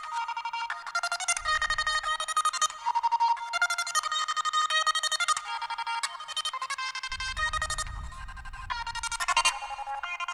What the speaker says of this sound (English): this loop, but it's reversed and then cut up and effects on it and stuff